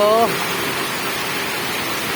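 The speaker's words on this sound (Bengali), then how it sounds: "অনেক সুন্দর বৃষ্টি হচ্ছে" Heavy monsoon rain pours down in a dense, steady roar without letup, while a brief voice is heard at the very start.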